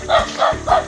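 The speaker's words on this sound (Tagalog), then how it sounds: "May alaga siyang aso." A dog barks three times in quick succession outside a rural home in the Philippines, each bark loud and close with short gaps between them.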